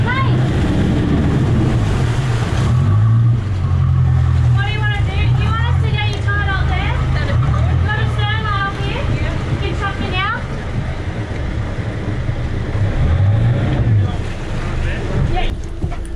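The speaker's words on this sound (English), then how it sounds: "this massive houseboat comes in" A large houseboat motors into a pond with a steady low engine rumble, wind buffeting the microphone and water noise, while voices talk over it throughout.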